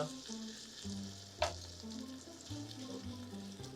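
Garlic and onion sautéing in a pan give a steady, soft sizzle with a clink of utensils partway through, heard alone at a low level beneath a faint background hum.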